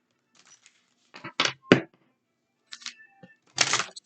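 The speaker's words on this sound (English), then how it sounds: "let's go ahead and shuffle the deck" A tarot deck being shuffled, with short bursts of riffling and card slaps in two clusters separated by a pause, close and crisp against near silence.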